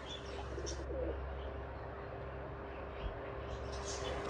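Soft, low cooing of pigeons kept in a village loft, faint and close with a few brief chirps near the start and end over a steady background hum.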